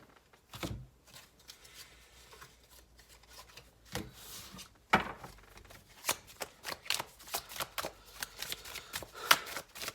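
A deck of tarot-style cards handled and shuffled close up, a quiet run of soft riffling flutters and dry taps, denser and busier toward the end.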